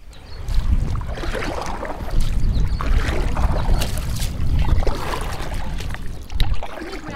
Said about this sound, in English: Crew members kindly paddled us out